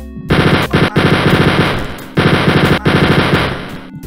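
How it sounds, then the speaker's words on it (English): Chain gun firing in Wolfenstein 3D, loud rapid automatic bursts of retro game gunfire in long runs with short gaps between them, close and dominant, no speech. "I'm going to switch the chain gun"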